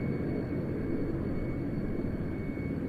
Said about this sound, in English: the C-17 performing